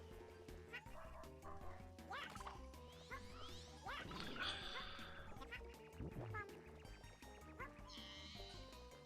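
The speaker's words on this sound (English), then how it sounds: "Terribly sorry about the dog downstairs if you can hear that." A dog barks repeatedly from a room downstairs, muffled and intermittent, mixed in with busy video game music and sound effects from the final Kamek fight in Yoshi's New Island.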